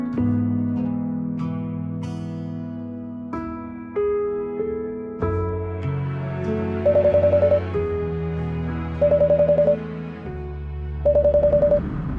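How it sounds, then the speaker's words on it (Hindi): A telephone rings in a drama scene. Its electronic warbling ringtone repeats three times at regular intervals over a sustained, swelling musical score. "Randeep, answer the phone."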